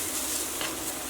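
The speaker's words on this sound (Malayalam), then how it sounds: "ഞാൻ നന്നായിട്ടൊന്ന് ഇളക്കി കൊടുക്കാം." Garam masala and Kashmiri red chilli powder are stirred in a hot pan for kizhi biriyani, a soft steady sizzle with faint scraping under it, close and quiet, without talk.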